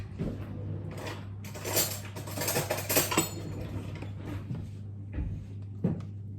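Metal cutlery clinking as a knife is picked up in a home kitchen while making a healthy recipe, a few light clatters and rattles over a steady background hum.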